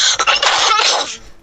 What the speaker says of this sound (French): quand tu tousses, évite de bouffer ton micro